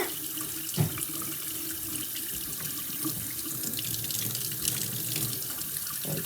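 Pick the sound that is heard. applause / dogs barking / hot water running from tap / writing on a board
hot water running from tap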